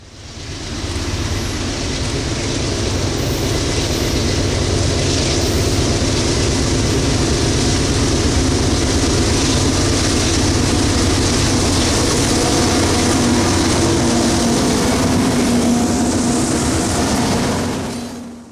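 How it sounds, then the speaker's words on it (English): A grain train headed by GE AC4400CW locomotives, the lead unit a Controlled Tractive Effort version, rolls past a private crossing outside town, a loud, steady rumble and clatter of wagons holding for the whole stretch. "In the lead was a GE AC4400 CW CTE and AC4400 CW."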